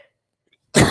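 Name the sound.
cough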